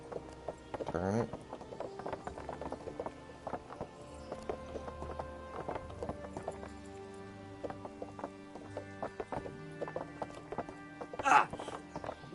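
Horse hooves clip-clop steadily in Kingdom Come over a busy bed of game music and effects, with a sharper burst of noise near the end.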